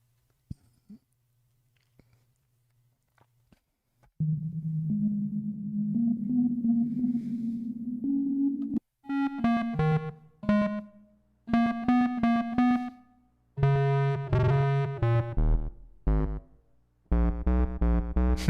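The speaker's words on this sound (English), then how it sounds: "does it sound like there's reverb on this?" An OXI One MK2 sequencer drives a synthesizer playing a slow droning chord, then a series of bright, stabbing notes in bursts, each washing out with a roomy reverb tail.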